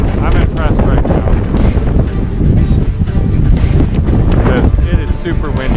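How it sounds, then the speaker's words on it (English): Strong wind buffets the microphone outdoors during a DJI Mini 2 drone's flight in gusty conditions, a loud, continuous roaring rush under a voice talking throughout. "It is super windy out here."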